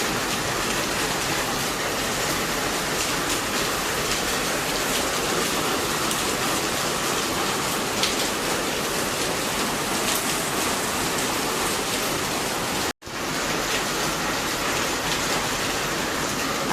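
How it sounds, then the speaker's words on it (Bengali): Heavy rain falls in a dense, unbroken roar that holds steady and loud throughout, with one brief dropout near the end. "দেখো কত জোরে জোরে বৃষ্টি হচ্ছে"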